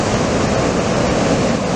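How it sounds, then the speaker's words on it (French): Ocean surf roars at Anglet beach, a dense, constant wash of breaking waves loud and close throughout, mixed with wind buffeting the microphone and no voices. "Quelques vagues sur le club aussi."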